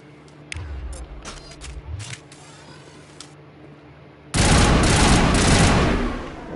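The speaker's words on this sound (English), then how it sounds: "Oh, I got a power pump gun. Pop, pop, pop." A power pump gun fires in a video game. A few sharp scattered shots come first, then a loud, close, continuous barrage of gunfire lasts about two seconds before cutting off.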